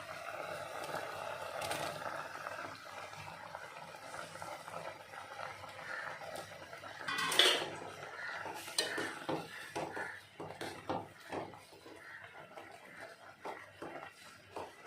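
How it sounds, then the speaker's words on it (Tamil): Chopped jackfruit is added to a pot of cooking sago payasam. A spoon scrapes and clinks against the metal pot in uneven bursts, with soft stirring and a faint bubbling simmer underneath. "நம்ம இதில் கட் பண்ணி வச்சுருக்கிற பலாப்பழத்தை இதில் ஆட் பண்ணிக்கலாம்."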